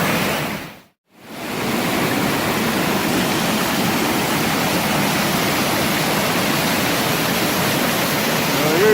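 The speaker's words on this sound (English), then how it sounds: "Here's the waterfall," A waterfall seen from a small island, roaring as a loud, steady broadband rush that drops out briefly near the start and then continues unbroken.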